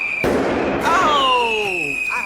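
German fireworks go off with sharp, loud bangs near the start, and a man exclaims right after.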